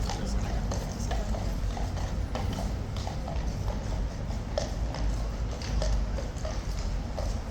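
Horse hooves clip-clop steadily on hard ground at Horse Guards in London, with a troop horse and mounted trooper moving amid a constant wash of outdoor crowd noise and street ambience.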